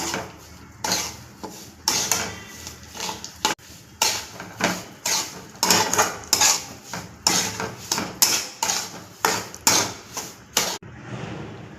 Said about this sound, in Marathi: आता मी हा भाजून घेत आहे चांगला